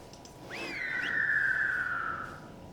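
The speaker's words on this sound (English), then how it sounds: "when you use the spirit's whistle, these things appear" A spirit's whistle used in World of Warcraft gives a single clear, sliding whistle tone that rises, then holds and fades over about two seconds, alone against a faint background.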